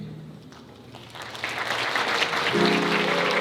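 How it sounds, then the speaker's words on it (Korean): Wedding guests in a convention hall applaud at the ceremony. The clapping swells after a quiet first second and grows louder, with sustained musical tones joining near the end. "축하다 함께 다시 한번 큰 박수 보내주시면 감사하겠습니다"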